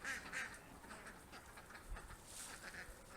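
Ducks quack in a winter garden, with several short, faint calls scattered across a few seconds against a quiet outdoor background.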